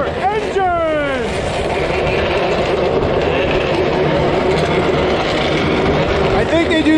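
Racing engines of snowmobiles and UTVs start up at a snowcross and UTV race in Chicopee, a loud sustained roar with rising revving whines near the start and end, heard alongside a lively crowd.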